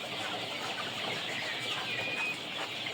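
A flock of Lohmann, Dominant Red and Dominant Sussex poultry clucks and cheeps continuously in a dense, close chorus, with no talking.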